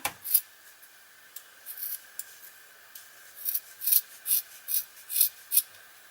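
Scissors snipping through tissue paper for flower pom poms, a few scattered cuts at first and then a quick regular run of crisp, close snips, alone with no talking.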